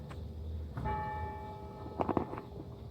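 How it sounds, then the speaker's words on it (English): A bell strikes once with a long, ringing tone, followed by a few quicker clanging strikes, moderately distant. "Bells are ringing."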